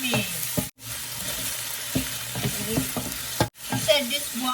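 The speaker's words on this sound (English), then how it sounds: "Stir fry it until it's nice and brown" Garlic and broccoli stems stir-frying in a ceramic non-stick wok, a steady loud sizzle broken by spatula scrapes and stirs, with two brief pauses.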